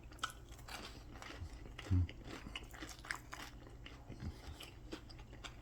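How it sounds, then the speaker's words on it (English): Quiet, close crunching bites and chewing of crunchy rosemary and cheese bread, with one louder crunch partway through, in a quiet room. "Crunchy bread with rosemary and cheese."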